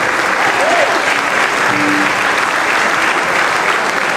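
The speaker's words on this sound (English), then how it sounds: "Let's hear a nice round of applause for Senate President Karen Spilka." A large crowd applauds loudly and continuously at a St. Patrick's Day breakfast, a dense steady roar of clapping with a few faint voices and whoops mixed in.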